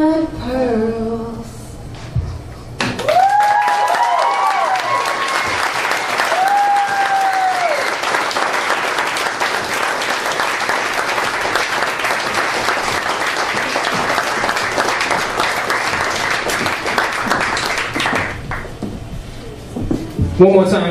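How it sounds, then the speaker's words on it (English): A concert crowd at Blueberry Hill bursts into loud sustained applause and cheering with whoops and whistles, after a brief stretch of someone talking, the clapping then fading out as talk resumes. "One more time, guys. Give a round of applause."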